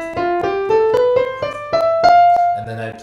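A piano plays a short rising sequence of single notes from a lesson exercise, about seven to eight separate keystrokes in a steady, moderate rhythm, close and clear.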